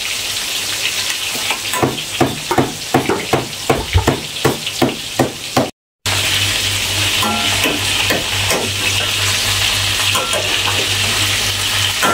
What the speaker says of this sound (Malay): Nak menggoreng ayam dulu okey.